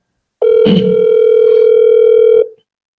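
A telephone ringback tone for an outgoing call sounds as one steady, loud, unbroken tone lasting about two seconds, with a brief click near its start.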